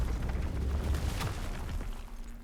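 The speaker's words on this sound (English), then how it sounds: "We can activate explosion on this one piece of mithril, I guess." An explosion set off on a piece of mithril ore in RuneScape: Dragonwilds, a dense rumbling blast with heavy low-end body that rolls on for a couple of seconds before fading.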